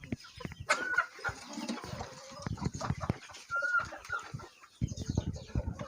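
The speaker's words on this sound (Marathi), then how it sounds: "बघू शकता आता तुम्ही कोंबड्या वगैरे वजनदार" Hens clucking inside a poultry shed at a laying farm, a cluster of short calls rising and falling over several seconds, with scattered shuffling and rustling close by.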